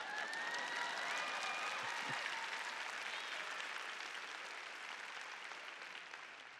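A large congregation at a Joyce Meyer devotional bursts into thick, continuous applause that holds a steady roar and tapers off gradually, with a brief low thump partway through.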